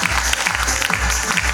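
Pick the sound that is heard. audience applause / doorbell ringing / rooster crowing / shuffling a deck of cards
audience applause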